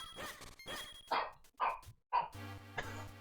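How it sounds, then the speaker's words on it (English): Several dogs bark indoors in short, sharp bursts at close range, some barks higher and yappy, with a brief electronic tone sounding partway through. "Oh gosh, you can probably hear my dogs."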